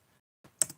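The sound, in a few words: typing a web address on a computer keyboard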